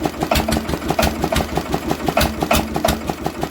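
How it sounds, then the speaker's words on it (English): A 1930s Deutz diesel engine runs rough after a cold start, overfuelling with heavy smoke, giving a close, loud, rhythmic knocking chug with regular pulsing beats. "they do have that distinct diesel noise"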